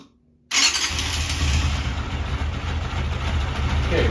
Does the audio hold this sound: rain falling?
no